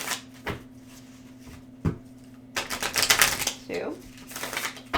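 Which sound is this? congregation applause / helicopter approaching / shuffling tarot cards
shuffling tarot cards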